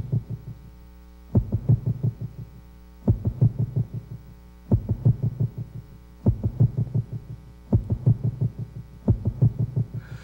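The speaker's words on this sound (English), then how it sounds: "Heartbeat." A heartbeat sound effect from the video game Persona 3 thumps in steady double beats about every second and a half, loud and close over a low constant hum, with no voices.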